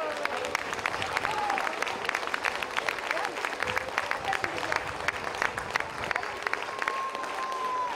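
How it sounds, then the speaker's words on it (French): A parish audience at a Christmas show applauds the volunteers with continuous, even clapping from many hands for several seconds, mid-distance and steady, with a faint voice or two underneath. "Et vous pouvez quand même les applaudir."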